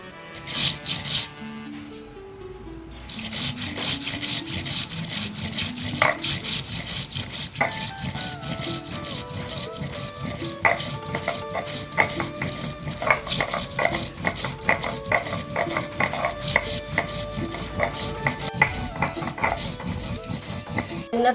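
Cumin being ground into a paste on a grinding stone, with continuous rasping, scraping strokes close by, mixed with tonal background music.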